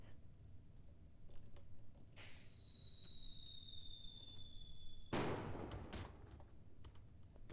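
A firework thrown at a bear in an outback survival video game gives a rising whistle for a few seconds, then a sharp, loud bang with crackling fallout, nearby and with no voices.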